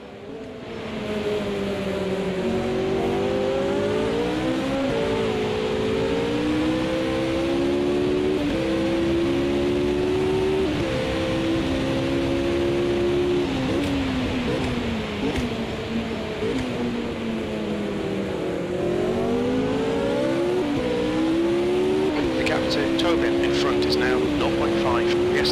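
A Roco 001 race car engine at Bathurst in Automobilista 2 drones loud and close, revving up and down through gear changes as the car chases another, with someone talking over it.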